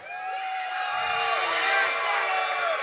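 Crowd at a caged fight event responding to a call for a fighter, a sustained wash of cheering and whooping voices with scattered clapping, steady and loud throughout.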